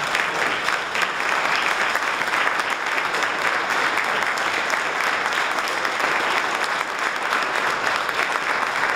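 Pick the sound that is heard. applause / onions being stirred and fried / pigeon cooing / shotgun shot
applause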